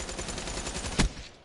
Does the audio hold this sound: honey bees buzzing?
no